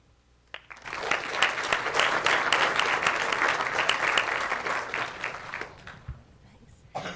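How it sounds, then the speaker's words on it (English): Audience applause at a school climate action presentation event, starting abruptly and building into steady clapping for several seconds before fading to a few scattered claps. "Let's have one more round of applause for all the climate action plans."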